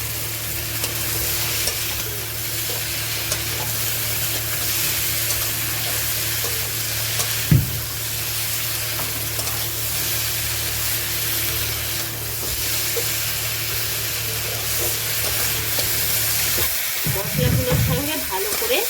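Barramundi (bhetki) pieces fry and are stirred in a spiced masala in a pan, giving a steady loud sizzle throughout with occasional scraping stirs, and a brief burst of clattering near the end.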